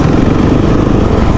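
A dirt bike engine held in second gear during a burnout attempt, revving loudly and steadily with a rough, throaty drone close by, no voices over it.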